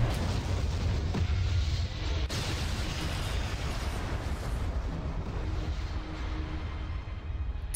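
Rumbling blast and dense roar from an explosion in the space combat game Bridge Commander, destroying X-Wing fighters; a sustained, loud low-frequency wash with a sharp burst around the middle, with no talk.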